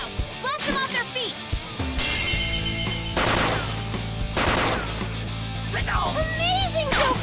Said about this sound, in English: A gunshot that surpasses my...